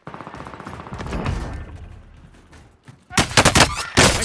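Bursts of rapid gunfire in the video game Call of Duty: Modern Warfare break out near the end, loud and close, after a stretch of quieter game ambience.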